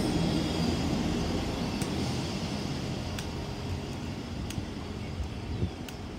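A train bound for Peterborough rumbles past steadily with a broad, continuous roar and a few faint high clicks, fairly close, with no voices.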